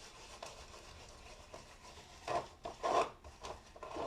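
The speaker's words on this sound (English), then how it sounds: "Just going to scrub." A lemon and baking soda are scrubbed over a new wooden cutting board from an O'Day 28 sailboat, giving soft, quiet rasping rubs that swell into a few louder strokes toward the end, heard alone without talk.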